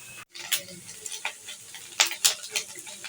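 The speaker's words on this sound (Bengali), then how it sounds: "একে একে ভাজা ভাজা করে নেব।" Chicken liver frying and being stirred in a pan for a dark-roasted kala bhuna dish, with soft sizzling under a series of scraping stirs and a few sharper clinks close by, and no talking.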